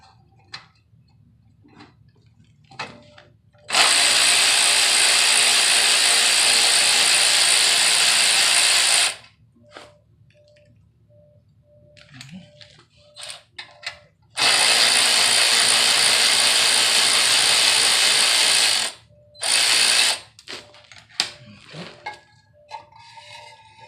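Bolt on a Mitsubishi 3000GT tail pipe being undone with a ratchet, two long loud bursts of rapid clicking separated by a pause and quiet handling noises, with a short extra burst after the second.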